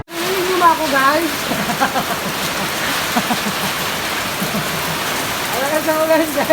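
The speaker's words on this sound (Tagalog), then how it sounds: "Alakas na ulan, guys." Heavy rain pours steadily and loud throughout, a dense close wash of drops on surfaces during a walk past a chili pepper plant, with a voice talking over it at the start and end.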